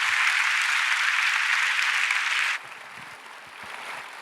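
Loud, dense applause from a church congregation greeting the pastor at an anniversary revival service fills the first two and a half seconds, then cuts off abruptly to a quieter room with faint scattered noise.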